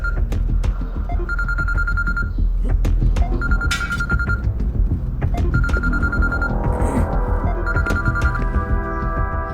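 A telephone rings in four evenly spaced trilling bursts, loud and close, over a busy background of other sounds.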